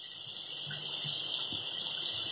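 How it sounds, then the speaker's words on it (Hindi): Water is poured into a pan of cooking veg soya keema, giving a steady, soft gushing pour that runs for a couple of seconds over a constant background hiss, with no voices. "इसमें हम पानी डाल देंगे।"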